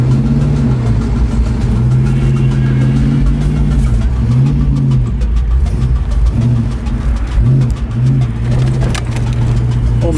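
A Ford Mustang GT engine idling and pulling away, a loud close rumble with rising and falling revs in waves, continuous throughout with faint background noise.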